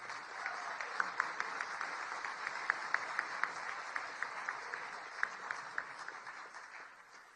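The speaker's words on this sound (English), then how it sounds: "Let's give him another huge round of applause" A dinner audience at the White House Correspondents' Dinner applauding, a sustained wash of many hands clapping at moderate distance with a few sharper claps standing out, and no talking over it.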